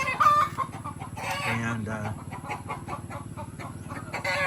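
Hens cluck steadily over a constant background hum, with a rooster-like call briefly rising; a voice speaks faintly at one point.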